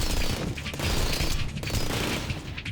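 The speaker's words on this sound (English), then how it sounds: "Those have got to be some new homing missiles." Homing missiles firing in the Rengoku video game, a rapid barrage of loud mechanical bursts and booms that continues dense and overlapping throughout.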